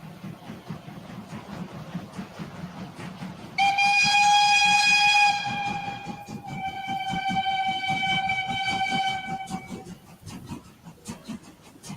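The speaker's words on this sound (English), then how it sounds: "how much longer will these World War II trains remain in service?" World War II Kriegslok steam locomotive running, rhythmic chuffing beneath two long, loud harmonic whistle blasts, the second slightly quieter, then the exhaust beat continues alone.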